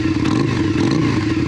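A Yamaha Virago 535 motorcycle engine idles steadily after the choke is eased back, a continuous low throb with mechanical clatter, close and fairly loud with no talk.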